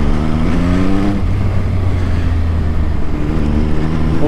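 An MV Agusta Brutale 800 motorcycle rides along with a loud, steady low engine drone under strong wind rush, with no voices.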